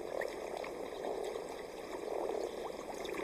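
Frogs calling at mountain breeding ponds in near-freezing water, a dense chorus of overlapping croaks and trills that continues without a break at moderate volume.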